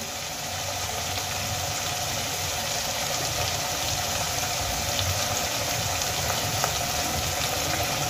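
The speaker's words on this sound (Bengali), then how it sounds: "এবার আমি এর মধ্যে দিয়ে দেব গ্রেট করে নেওয়া আদা আর রসুন।" Grated ginger and garlic go into onion paste frying in a pan for a Bengali-style egg masala curry, giving a steady, moderately loud bubbling sizzle with a low rumbling undertone that runs unbroken throughout, with no talking.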